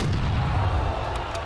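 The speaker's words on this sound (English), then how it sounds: "Lovely shots out of Dashy. One of the best to ever do it with the boomstick." Shotgun blasts in a Call of Duty esports match, heavy booming shots that blend into a dense, loud wash of game audio, with crowd and commentary noise underneath.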